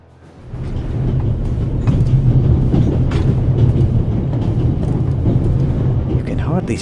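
An out-of-control steam train in the Alps from The Raven Remastered rumbles along, its deep rolling clatter rising in the first second and then holding loud and steady with light rhythmic clicks on top.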